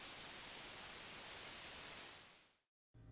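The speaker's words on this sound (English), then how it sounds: "you'll start hearing a static noise that will constantly play as long as you're playing the world" Constant loud hissing static plays in the Minecraft Error 422 game world, a dense, even wash of noise that fades out near the end, drops to brief silence, then returns.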